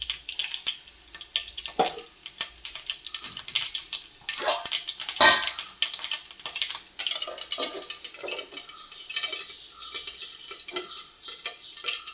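Mustard seeds crackle and pop in hot oil in a pan for a Kerala mango pulissery, with a utensil scraping and clinking as it stirs. The crackle is bright and constant throughout, with no speech.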